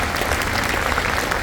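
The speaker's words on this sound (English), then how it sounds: "let's give her a round of applause" Audience applause at a spring school concert, steady dense clapping from a full hall sustained evenly throughout with no talk over it.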